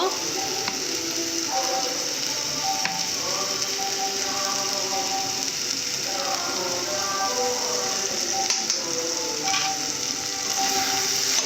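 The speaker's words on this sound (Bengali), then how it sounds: "এইভাবে আর কিছুক্ষণের জন্য ভালো করে নেড়ে ছেড়ে নেবো" Banana flower and potato curry stirred in a pan, with a continuous low sizzle under repeated scraping and rattling strokes of the spoon against the metal, close and fairly loud.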